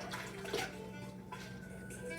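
Cold tap water runs steadily while cranberry beans are rinsed in a bag, a continuous close splashing wash with faint clinks and rustles throughout.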